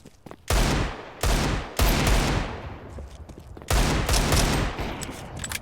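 Several loud, sharp gunshots in a video game, some in quick bursts with echoing tails.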